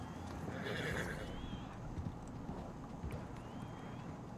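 A horse in the Western video game Red Dead Online whinnies loudly near the start, its neigh rising over a steady background rumble, followed by lighter distant hoofbeats and faint calls as the scene continues.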